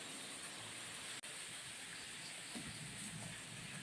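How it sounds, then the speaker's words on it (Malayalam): Heavy rain pours down outside as a steady, even hiss throughout, with only a momentary dropout and no voices. "അപ്പോൾ ഇവിടെ നല്ല മഴയുള്ളത് കൊണ്ട് ചിലപ്പോൾ നിങ്ങൾക്ക് ബാക്ക്ഗ്രൗണ്ടിൽ ബുദ്ധിമുട്ടുണ്ടാവാം"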